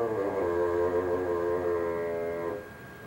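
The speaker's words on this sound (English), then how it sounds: "So now we've got a bassoon that actually is about 5 feet long." A partly assembled bassoon with the boot joint added, playing one sustained reedy note that holds steadily for about two and a half seconds before stopping, close and alone.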